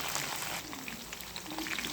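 Black gram, peanuts, curry leaves and green chillies fry in hot oil for a lemon rice tempering, giving a dense, close crackling sizzle that stays loud and continuous throughout.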